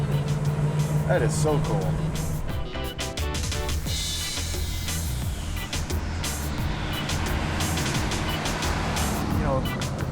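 Engine of a dropped and shaved 1954 Mercury custom, revving and pulling through three-on-the-tree gear shifts with rising and falling pitch, loud and close, with a person talking excitedly over it.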